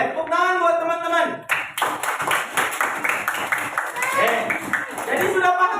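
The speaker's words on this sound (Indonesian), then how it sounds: "Tepuk tangan buat teman-teman" Children in a classroom clap in quick, uneven bursts over a noisy room, with young voices calling out over the hands throughout.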